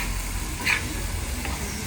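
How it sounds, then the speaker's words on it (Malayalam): A little oil is poured into a hot pan, giving a steady, close sizzling hiss with a couple of brief, sharper crackles. "തുള്ളി എണ്ണ ഒഴിക്കാം"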